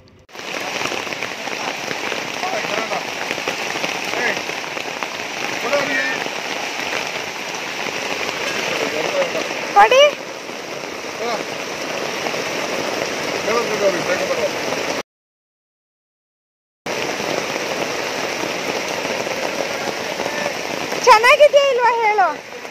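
Steady heavy rain pours at a roadside stall selling corn roasted over hot coals, a dense continuous hiss broken by a brief silent gap, with people talking underneath.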